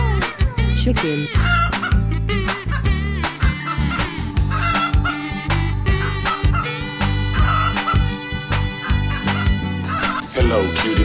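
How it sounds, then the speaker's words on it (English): A chicken clucks in a 3D animal video game, with cartoonish, insistent clucking layered over loud, busy game music and effects that run throughout. "Chicken."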